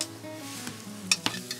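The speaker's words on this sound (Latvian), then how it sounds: "Reku mēs dzirdam, kā suprīgi kraukšs sīpoliņi, tad viss ir pareizi." Onions, garlic and ginger sizzle softly in a frying pan while being stirred, with a steady faint crackle broken by a few brief scraping clinks of utensil on pan, heard close and without talk.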